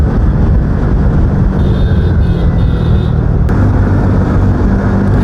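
A car racing along, with a loud, continuous rumbling engine and road roar that stays steady throughout, up close and with no voices.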